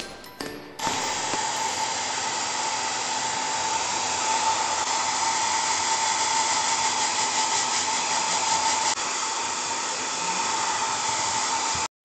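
A toy hair dryer blows on a Rapunzel doll's tangled hair. After a brief click, a steady close whir runs continuously until it cuts off at the end.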